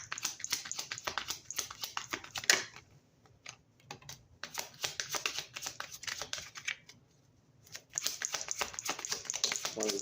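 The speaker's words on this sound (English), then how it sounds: "Just do a quick shuffle here and get some cards out." Tarot cards shuffled and dealt at close range, a quiet run of quick papery flicks and taps, pausing briefly mid-way before the riffling resumes.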